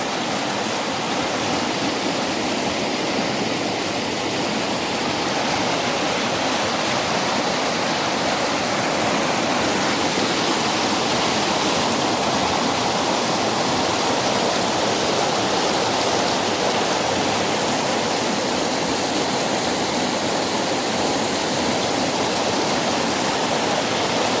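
A river's waterfall roars loud and constant nearby, a dense unbroken rush of falling and churning water with no other sounds.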